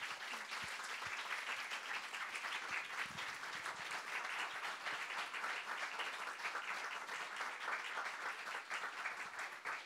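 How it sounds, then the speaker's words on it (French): Sustained audience applause fills an evening event featuring a Brie de Meaux tasting and Samuel Beckett reading, steady and dense for the full stretch, with a few sharper individual claps standing out near the start. "Vous pouvez l'applaudir."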